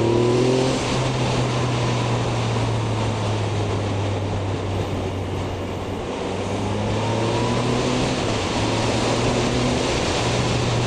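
A Yamaha XSR 900 three-cylinder motorcycle rides through city streets. Its steady engine drone carries under wind and road noise and rises slightly in short accelerations, heard from onboard.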